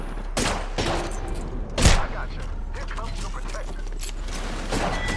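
Gunfire in the video game Apex Legends, a few punchy shots with one heavy boom near the middle, set against a steady game backdrop with voices talking at times.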